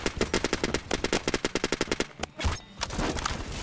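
Rapid automatic gunfire from the video game Phantom Forces rattles in a fast, evenly spaced burst of sharp shots for about two seconds, then stops, leaving a few scattered thuds and reload clicks.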